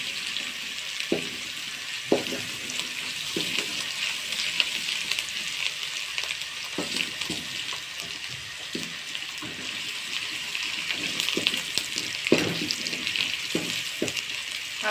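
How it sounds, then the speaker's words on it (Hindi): Potato, peas and carrot are sizzling as they are sautéed in a pan for a few minutes, with a steady crackling fry broken by occasional sharp clinks and scrapes of a spoon against the pan. "इसको भी तकरीबन 2 या 3 मिनट करेंगे, इसकी भुनाई करेंगे।"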